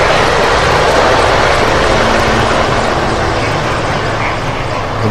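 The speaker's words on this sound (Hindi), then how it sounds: "MI-17 हेलीकॉप्टर्स की फॉर्मेशन।" MI-17 helicopters fly in formation at a Pakistan Day military flypast, a loud, steady, dense engine and rotor roar that fills the whole stretch without a break.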